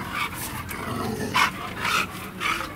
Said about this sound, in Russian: Ой, страшная псина, пристрашная.